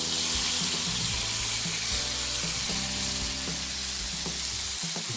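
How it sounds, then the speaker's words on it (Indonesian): Blended shallot, garlic, bird's eye chili and curly chili paste sautéing in hot oil, a loud, dense, continuous hiss with faint clinks of a utensil underneath. "Nah, ini kita tumis dulu."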